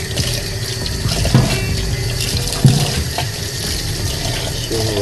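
Running water splashing as freshly caught fish are washed aboard a ship at sea off Oman, a steady loud gush with a couple of sharper thumps and splashes, no talk.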